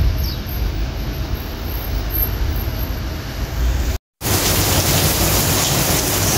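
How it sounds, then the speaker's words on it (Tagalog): Heavy autumn rain pours down outdoors in Rovinj, Croatia, as a loud, steady, dense wash of noise with a brief total dropout near the end and no voices. "Sobrang lakas na ng ulan."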